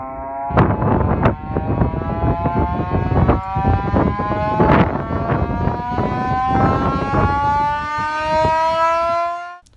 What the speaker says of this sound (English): This involved replicating a type of siren attached to German planes at the time